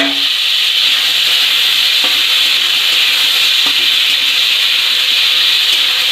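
Ivy gourd frying in a pan, a loud steady hiss of sizzling oil with occasional faint stirring knocks, close by and without speech.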